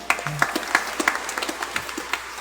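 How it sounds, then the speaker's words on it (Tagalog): Scattered clapping rises from a church congregation at a Christmas-season Mass in Quiapo. It comes as a sparse, uneven patter of individual claps that stays fairly soft rather than a loud ovation. "Pumalakpak ng malakas, no?"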